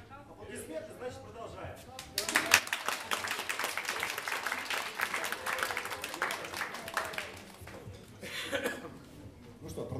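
An audience at a jazz concert breaks into sustained applause, dense clapping rising after a short lull and fading out near the end.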